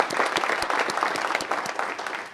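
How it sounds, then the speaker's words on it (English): A council meeting audience applauds during a certificate presentation, a continuous burst of many people clapping that stays fairly close and even for the whole stretch. "Everyone, please give a round of applause."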